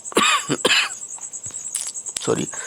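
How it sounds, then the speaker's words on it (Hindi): During a maths lesson, a few sharp, close coughs break out in quick bursts, with short vocal sounds between them over a faint steady high whine. "माफी चाहता हूँ, खांसी आ रही है।"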